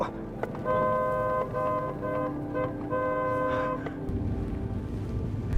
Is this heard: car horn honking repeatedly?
yes